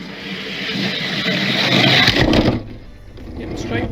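An Audi and a Porsche launch side by side in a drag race heat, engine roar building over several seconds and then cutting away abruptly, with a commentator talking over it.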